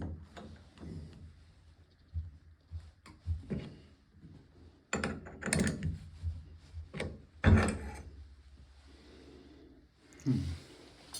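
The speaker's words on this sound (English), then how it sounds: "I just turn the yoke to make sure it turns easily" A bathtub faucet valve yoke being turned by hand gives intermittent rubbing, scraping and clicking mechanical sounds in irregular bursts, close and moderately quiet, with brief pauses between movements.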